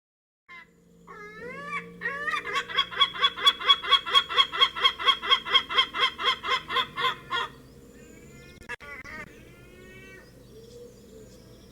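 A gull gives a loud, rapid series of laughing calls, about twenty evenly spaced notes, with a few shorter cries before and after.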